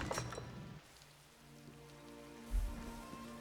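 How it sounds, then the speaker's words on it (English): Rain falls in the fantasy role-playing game Elder Scrolls Online, a soft, faint, steady patter beneath quiet, sustained background music. "Oh, it's raining."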